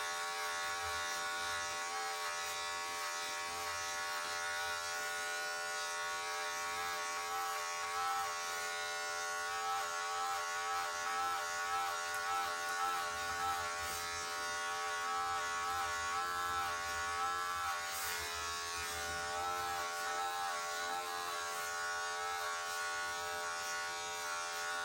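An electric hair clipper buzzes steadily and close while cutting a woman's hair at home, a continuous motor drone with slight variations as it moves through the hair, no speech.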